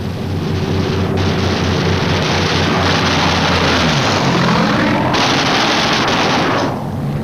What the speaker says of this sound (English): And now the first Jap snoopers appear, diving head-on into the formations.